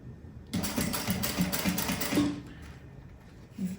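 A sewing machine stitches a seam on a handmade bag in several quick bursts, its rapid rhythmic whirring clattering close and loud for about two seconds before stopping, with a brief restart at the end.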